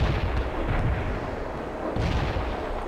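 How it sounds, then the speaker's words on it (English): A heavy artillery barrage in the war game World in Conflict, a dense, continuous rumble of booming shell fire that swells again near the end, loud and close, with no voices. "We can start the heavy barrage!"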